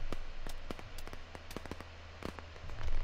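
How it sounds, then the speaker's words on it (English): Machine gun fire in the video game Operation Harsh Doorstop, a string of sharp irregular shots and bursts over a low steady hum, fairly close and loud, with no talking. "Oh, machine gun."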